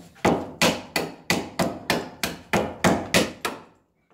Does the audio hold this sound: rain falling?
no